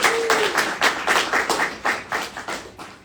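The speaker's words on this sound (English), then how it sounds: "One more round of applause for her." An audience at a congressional briefing on arts funding claps for Senator Collins, a fairly thin, moderately close round of applause with distinct individual claps pulsing steadily before tapering off.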